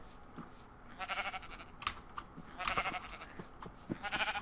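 Sheep bleat in a video game, several short nasal calls repeating at irregular intervals, moderately near, over a quiet background with faint clicking.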